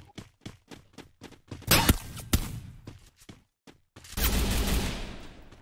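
Rapid bursts of video game gunfire fired from a vehicle, a string of sharp shots followed by heavier blasts and a sustained noisy rumble, loud and close.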